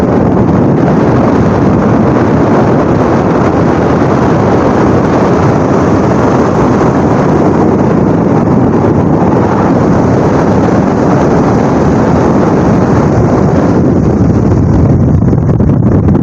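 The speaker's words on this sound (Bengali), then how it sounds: "আলওয়ালির 4 লঞ্চ আমাদেরকে ক্রসিং করলো।" Passenger river launch MV Al-Wali 4 passing close by on a river, a steady loud engine drone and water rush mixed with heavy wind buffeting across the whole stretch, no voices.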